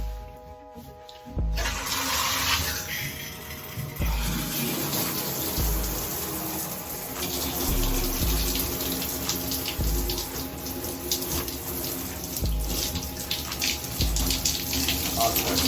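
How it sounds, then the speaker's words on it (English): Shower head running water in a bathroom, a steady hissing spray that starts after a brief quiet moment and continues with some splashing and knocks, no speech over it. "Like, just put your shower head on."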